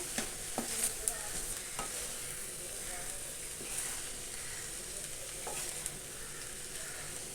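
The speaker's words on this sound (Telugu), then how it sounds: "ఈ రైస్ని మొత్తం దీనిలోకి యాడ్ చేయాలి. ఇలా ఇప్పుడు మొత్తం అంతా మిక్స్ చేసేస్తాను." Cooked, cooled basmati rice being mixed into fried vegetables in a pan, a soft continuous sizzle with occasional clinks and scrapes of the spatula, fairly quiet and close.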